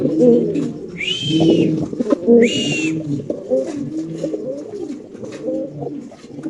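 Pigeons at a pigeon farm coo in low, rolling, throaty murmurs close by, repeating in overlapping bursts, with two brief high-pitched squeaks breaking in early on.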